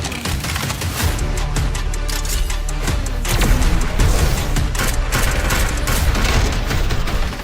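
Artillery barrage in a shooter video game trailer, a dense unbroken roar of rapid blasts and booms that stays loud throughout, with no talking.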